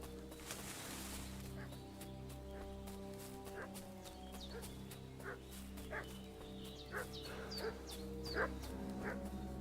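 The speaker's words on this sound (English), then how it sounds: "What's that dog making such a fuss about?" A dog in the video game Kingdom Come: Deliverance II barks and yips repeatedly at a moderate distance, a string of sharp, fussy calls over a steady, humming game backdrop.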